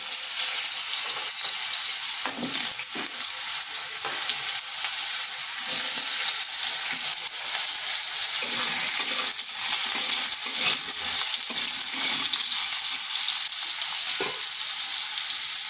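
Cut potatoes and five-spice seeds fry loudly in hot oil, a dense, constant sizzle with occasional stirring clatters over about fifteen seconds. No one speaks.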